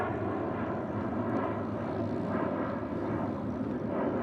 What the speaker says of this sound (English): Finnair, A350 from Dallas, Australia